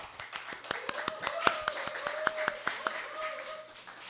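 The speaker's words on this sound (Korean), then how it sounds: "다시 한번 큰 박수 부탁드리겠습니다" Scattered claps from a concert show audience on a Korean late-night program, with a voice carrying on beneath them. The sharp individual claps come loose and uneven rather than as a dense roar.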